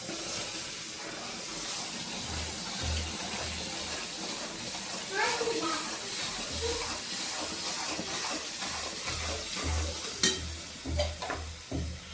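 Wheat flour roasting in ghee for shiro, a gentle continuous hiss and sizzle with soft stirring and scraping in the pan, close and steady, with a few sharper clinks near the end.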